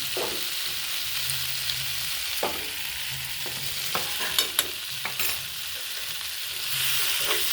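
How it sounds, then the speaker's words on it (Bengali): Cauliflower and soybean curry with spices being stirred in a pan, a steady close sizzle with soft scraping strokes and occasional clicks of the spoon against the metal, no voices. "মশলার সঙ্গে ভালো করে মিশিয়ে নিয়েছি সবটা"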